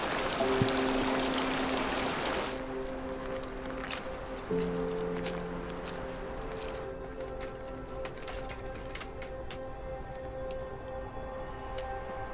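A river on New Zealand's Rees-Dart Track rushes with steady broadband noise that is loudest at first, then settles into a softer continuous flow with faint scattered ticks and no speech.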